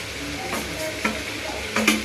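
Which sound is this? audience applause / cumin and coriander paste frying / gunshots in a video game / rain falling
cumin and coriander paste frying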